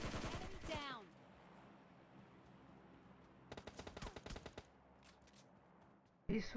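Bursts of automatic rifle fire from an M4 in the mobile battle royale game PUBG Mobile Lite, a rapid rattling volley midway between quieter stretches, with brief voice sounds at the start and end.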